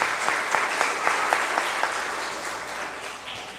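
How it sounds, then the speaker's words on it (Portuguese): An audience claps for children at a church gathering, a steady moderate patter with some distinct claps that fades slightly toward the end. "mais uma vez uma salva de palmas para as nossas crianças"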